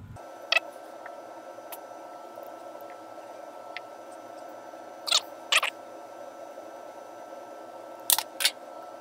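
Metal shears snip a fuel tank pump straw in a few short, sharp, close cuts, two around the middle and a quick pair near the end, with faint ticks between and no talk.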